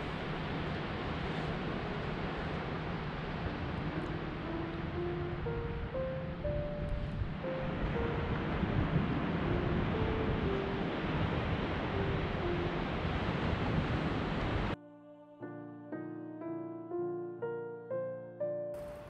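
Steady broadband ocean surf washes at a beach access on Norton Street, a continuous hushing roar for most of the stretch, then cuts away near the end to a gentle melodic tune.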